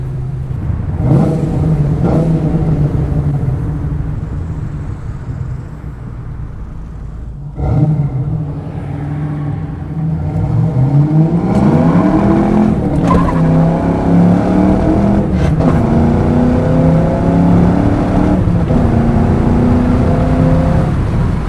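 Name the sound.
1993 Ford Mustang Cobra accelerating hard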